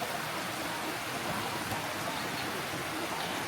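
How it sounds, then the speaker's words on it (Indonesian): Rain starting to fall outdoors during an FPV drone flight, heard as a steady, even hiss of drops that fills the whole stretch without pause. "Langsung hujan tuh."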